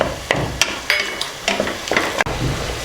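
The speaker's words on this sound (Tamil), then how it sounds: "பெரிய பழம் இப்போ சேர்த்துட்டு இது நல்லா சாஃப்டாக வதங்கி வர்ற அளவுக்கு இதை நல்லா வதக்கிக்கலாம்." Tomatoes sautéing in a pan for Chettinad egg curry, with a low sizzle under repeated spatula scrapes and clanks against the metal, coming in an uneven stirring rhythm close by.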